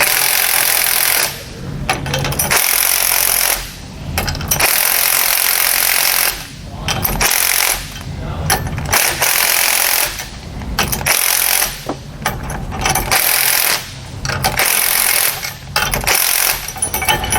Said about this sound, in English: We want to go back and forth too because we want to try to get our U-bolts tightened down evenly.